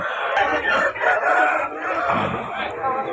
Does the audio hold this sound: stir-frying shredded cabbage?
no